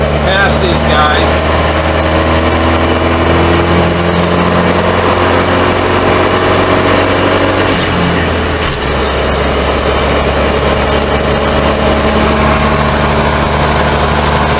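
A 1942 Dodge carryall's engine drones steadily on the road for the whole stretch, its low rumble dipping briefly as the truck drops down a gear, with a voice speaking over it.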